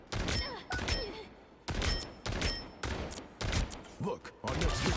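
Video game gunfire fills the clip with a string of loud, close shots arriving every half second or so, mixed with game effects and brief metallic pings, and without clear pauses between them.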